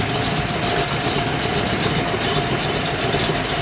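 A 1966 car with a freshly built 302 V8 idles close by, a steady rumbling engine drone with no one talking.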